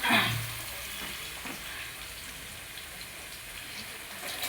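Chopped tomato lands in a hot tempering with a short burst, then settles into a soft, steady hiss of frying, faint and without voices.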